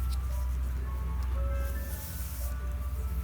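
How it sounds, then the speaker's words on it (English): An ice cream truck drives by playing its tinkling melody, faint and distant over a steady low engine hum. "Now I hear the ice cream man going by."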